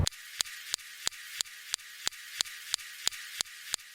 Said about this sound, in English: Next, we have the SuperCam laser zapping rocks.